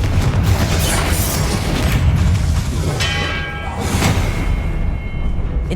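A Confringo fire spell bursts in Hogwarts Legacy, a loud booming blast with rolling crackle that swells twice over a dense, continuous game soundscape of rumble and ringing tones.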